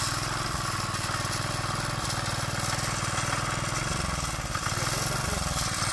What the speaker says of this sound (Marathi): डायरेक्ट ट्रॅक्टर घेऊनच खाली इलो